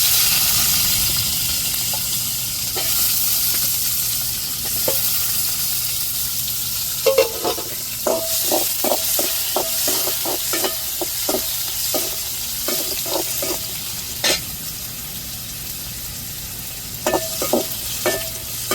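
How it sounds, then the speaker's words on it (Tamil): Small onions (shallots) sautéing in a pan, giving a steady close sizzle with repeated clinks and scrapes of a spoon stirring through the middle and end. "இப்போ சின்ன வெங்காயம் சேர்த்துக்கிடுவோம்."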